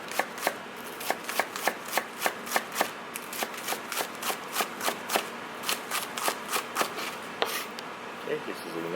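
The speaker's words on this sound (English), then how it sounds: "Scallion also just cut into smaller" Knife chopping scallions on a cutting board for okonomiyaki, a steady run of crisp, close taps in quick rhythm, with a few brief voice sounds in the background.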